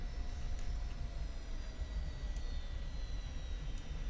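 Jet aircraft in DCS World taxiing on the ground, a steady low engine rumble with a continuous whine and faint high tones, unbroken throughout with no talk.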